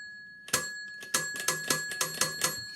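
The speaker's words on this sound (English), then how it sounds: "So he rings the little bell." A little door bell at a house is rung repeatedly, about eight bright metallic dings in a quick uneven rhythm, close and clear over a faint steady electronic hum, with no talking.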